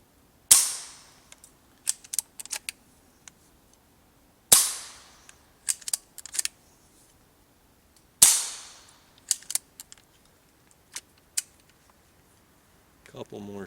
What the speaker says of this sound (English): Couple more shots.